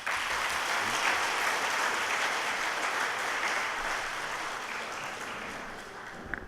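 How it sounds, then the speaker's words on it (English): An audience at a student orientation programme applauds, a dense, steady wash of clapping from many hands that holds evenly for several seconds before slowly tapering off at the end. "then please give him a big clap"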